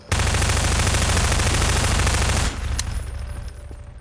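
Loud, dense automatic gunfire from a Garry's Mod singleplayer session fires continuously for about two and a half seconds, then stops abruptly, leaving a quieter rumbling tail with a few faint clicks.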